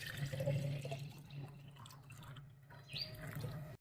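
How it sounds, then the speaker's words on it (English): Water is poured into a container, a quiet trickling and splashing stream close by, fading in and out over a few seconds. "Pour 1 liter of water into a container."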